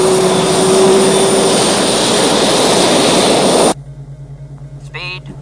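An F116 jet aircraft roars loudly past at low level, a dense sustained blast with a steady high whine that cuts off abruptly, leaving a low hum and a brief faint chirp.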